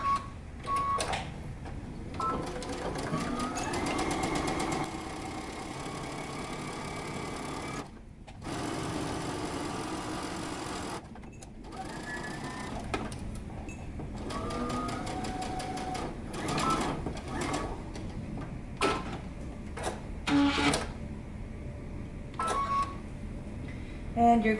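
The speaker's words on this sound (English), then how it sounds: "once you have it pinned, you're going to stitch using 5/8 of an inch seam allowance." A sewing machine stitches a pant seam in repeated runs of rapid mechanical chattering, close up, separated by brief pauses and small clicks.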